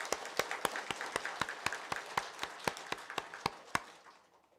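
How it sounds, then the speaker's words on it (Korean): A congregation at a Won Buddhist dharma service claps in slow, even unison, about fifteen sharp beats heard from a distance before they fade out. "큰 박수를 보내드립니다."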